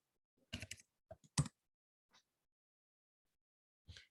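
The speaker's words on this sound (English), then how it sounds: "You want to type in your password." Password being typed on a computer keyboard: a handful of separate key clicks in short clusters with gaps between, quiet and close, with no voices.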